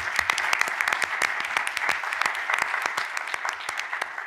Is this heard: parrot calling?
no